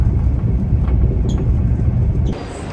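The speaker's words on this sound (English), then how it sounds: "made it on to the final train of this trip, headed south to the city of Naples." Italian passenger train riding south toward Naples, a loud continuous low rumble and rolling roar heard from inside the carriage, with faint clicks and a sudden drop in level near the end.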